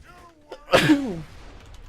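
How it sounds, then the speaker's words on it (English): A single loud sneeze bursts out midway, with a short voiced lead-in and faint background sound around it. "Oh, got a sneeze coming."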